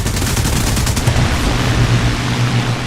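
Rapid 20mm cannon fire from a Spitfire Mark V-C fighter in War Thunder, a dense continuous burst of fast reports lasting a few seconds, loud and close, with no talk.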